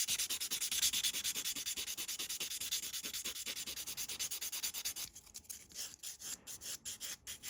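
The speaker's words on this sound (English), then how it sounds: "then you use the 180 grit side to buff everything nice and smooth" Rapid, steady back-and-forth rasping of a 180 grit buffer across short acrylic nails, close and continuous for about five seconds, then breaking into slower, separated strokes.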